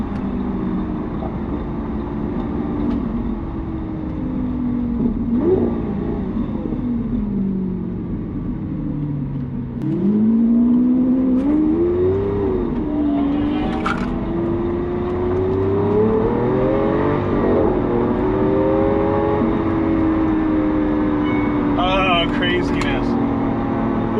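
Lamborghini Aventador SV, a Travis Scott Pirelli Edition, revving and pulling hard while driving, its engine note rising and falling continuously under excited talk from inside the car.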